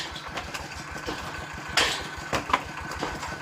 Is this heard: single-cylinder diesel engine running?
yes